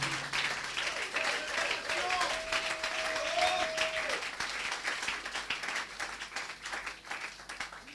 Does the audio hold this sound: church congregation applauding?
yes